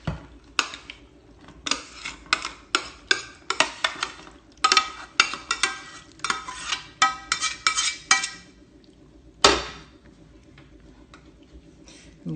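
Shepherd's pie meat filling spooned into a pan and spread across it, a series of irregular clinks and scrapes of a utensil against the metal, close and fairly loud.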